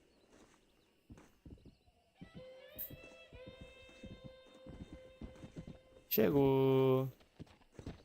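Horse in Red Dead Redemption trotting in with steady clip-clop hoofbeats, closing in and ending in a loud neigh, while someone talks over it.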